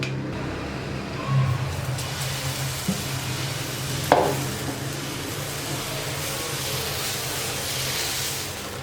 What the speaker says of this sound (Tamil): இப்போ நம்ம தோசை ஊற்றிக்கலாம்.